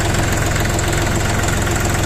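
A KENTAVR 24 hp mini tractor engine idles steadily up close, a loud, even low-pitched chugging rumble with constant vibration and no break for the whole stretch.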